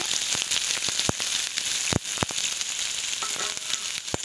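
Onions fry in hot coconut oil with freshly roasted coconut for a mushroom gravy, giving a steady close sizzle dotted with small pops and crackles.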